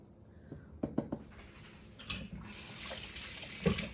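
Sourdough starter is stirred with plain water, making faint, quiet wet clinks and scraping taps scattered over a few seconds.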